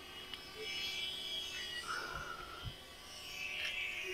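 A DJI Flip drone hovering steadily in place, its faint, even propeller buzz and whine holding throughout with a few soft thumps, no talking.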